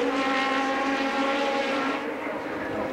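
Formula One cars at the 1973 British Grand Prix at Silverstone roar down Hangar Straight toward Stowe, a loud sustained engine howl holding steady before easing off slightly near the end.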